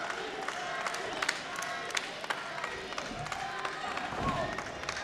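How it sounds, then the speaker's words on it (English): A dense wrestling crowd at a sports expo event cheers, claps and shouts continuously, with bursts of applause and a commentator's voice mixed into the noise. "The crowd just getting behind him."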